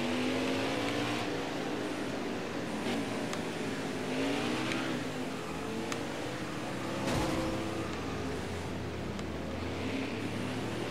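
Race car engine from NASCAR Heat 5 during an Xfinity Series race at Mid-Ohio, a continuous loud drone with rising and falling pitch as the throttle eases off and on, with other cars' engines layered underneath.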